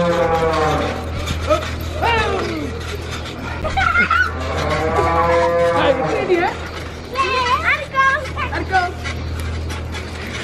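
Cows moo repeatedly in a pasture, several long drawn-out calls near and loud, with people chatting softly in the background.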